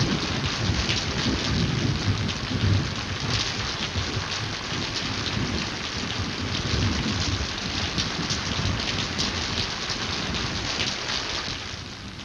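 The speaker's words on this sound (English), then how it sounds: "All I need now is to have it start raining." Steady heavy rain falls without a break, a dense and even roar of drops hitting surfaces that stays loud and close throughout, with no voices.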